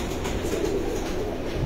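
Breeder pigeons of an Aleppo line kept on a rooftop loft, cooing softly and steadily throughout under a continuous broadband background hum, with no talking.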